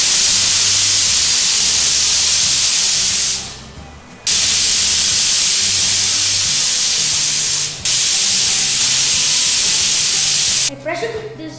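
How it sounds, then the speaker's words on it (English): A pressure cooker loudly hisses a steady jet of steam while matar aloo, a green peas and potato curry, cooks; the hiss cuts out briefly twice and resumes, sputtering near the end. "now pressure cook for 5 minutes"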